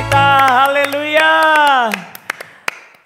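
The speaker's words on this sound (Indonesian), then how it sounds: "Kita tepuk tangan panjang buat Tuhan Yesus kita" Sunday school children clapping hands in applause, with sharp claps scattered under a long sustained voice, then a few louder claps continuing alone as the voice fades.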